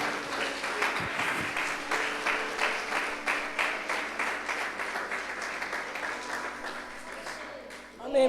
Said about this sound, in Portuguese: Se você crê, dê um aplauso ao Senhor.